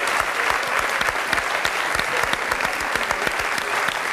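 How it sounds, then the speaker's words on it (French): A studio audience on a French television talk show applauds loudly and steadily, a thick wash of many hands clapping with sharp individual claps standing out throughout. "On peut applaudir la famille."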